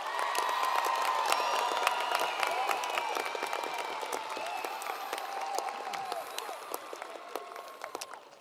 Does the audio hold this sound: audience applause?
yes